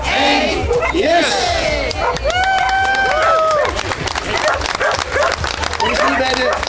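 Large dogs at a Dutch dog event bark and yip repeatedly amid crowd noise, with someone speaking loudly over the barking throughout.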